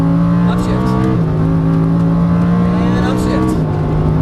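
A race car engine roars loudly and steadily close up, its pitch climbing and stepping down at gear changes, with a voice talking over it.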